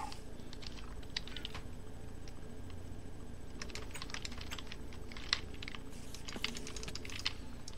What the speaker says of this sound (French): martèle son clavier